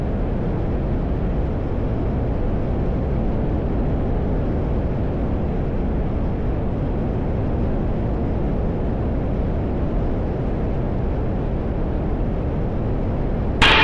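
Steady engine drone of an AirBike ultralight aircraft in flight over North Carolina, a constant, even roar filling the cockpit with no pauses.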